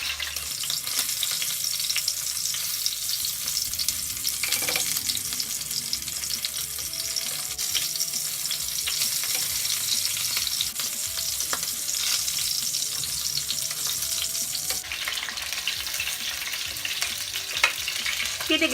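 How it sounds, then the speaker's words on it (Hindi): Chicken tikka pieces frying in oil, a loud, dense and continuous close sizzle that runs on steadily for a long stretch, with occasional stirring and faint clatter and no talk. "मैं एक एक पीस उठा के इसमें डालती जाऊंगी। 3 पीस हम फ्राई कर लेंगे।"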